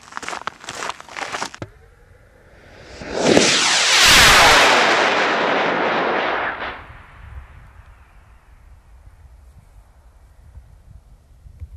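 A model rocket launches on its third flight outdoors, a sharp ignition burst swelling into a loud, roaring hiss of rocket motor exhaust for several seconds, then fading into a distant rumble and quiet ambient noise.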